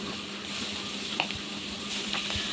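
Boal fish pieces coated in turmeric, chili powder and salt frying in hot oil, a loud continuous crackling sizzle with a couple of soft pops, heard close and without talk.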